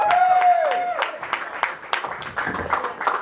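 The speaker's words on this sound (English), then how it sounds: "Let's have a big round of applause for Tom Myers." A comedy club audience applauds and cheers as a stand-up comedian walks onto the stage, a steady burst of clapping from the crowd that starts loud and slowly tapers off, with a voice briefly heard near the start.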